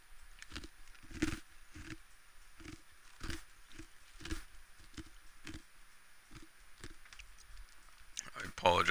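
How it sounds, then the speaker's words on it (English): Someone chews ice near a cheap microphone, producing a string of crisp, irregular crunches and cracks spaced through the stretch, loud and close against quiet background, with a burst of louder noise at the end. "I'm chewing ice."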